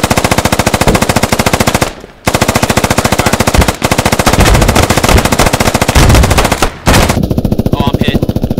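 Sustained machine gun fire in the military shooter Squad, loud rapid bursts with two brief pauses, followed by a few clipped shots and faint radio-like chatter at the end.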